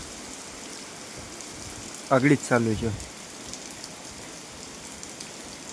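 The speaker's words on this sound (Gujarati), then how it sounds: "10-15 મિનિટથી વરસાદ જોરદાર વર્યો." Heavy rain pours steadily over a Gujarati village by a river, a dense, even hiss throughout, with someone speaking briefly in the middle.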